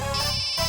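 A phone ringtone plays loud and close, a sustained electronic melody filling the whole moment with no voices over it.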